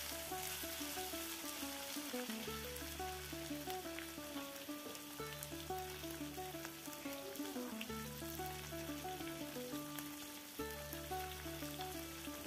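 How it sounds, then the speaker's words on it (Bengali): Onions and capsicum pieces sizzle steadily in a hot pan for several seconds, a continuous crackling fry heard under background music. "ক্যাপসিকামের টুকরোগুলো দিয়ে আবারও একটু আমি ভেজে নেব।"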